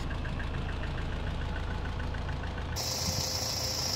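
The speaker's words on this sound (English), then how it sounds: "I like to let the engine idle for at least 10 minutes" A PSA HDi diesel car engine idles with a steady low rumble and a faint regular ticking, after a timing belt replacement; a high electronic whine joins near the end.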